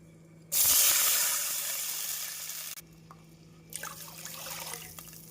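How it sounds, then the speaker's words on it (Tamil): Water poured into a hot pot of oil with fried bay leaf, star anise, cloves and cardamom for chicken dum biryani, a sudden loud sizzling rush that fades, then a second quieter burst of bubbling. "நாம் தண்ணீர் ஊற்றி விடலாம்"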